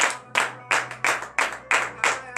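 A church congregation at morning prayer in Benin claps in a steady rhythm, with about seven sharp, even beats close by and a low hum running beneath.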